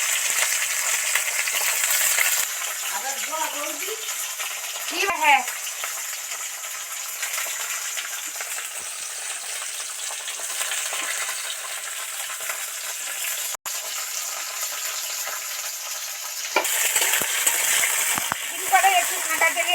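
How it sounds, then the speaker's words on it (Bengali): Beans and kohlrabi fry in hot oil in a village-style mixed vegetable dish, a steady broadband sizzle running throughout with a brief stir near the start, a louder burst toward the end, and a short spoken word. "বিন কড়াই ওলকপিটা একটু সবার আগে ছাকা তেলে ভাজতে লাগে"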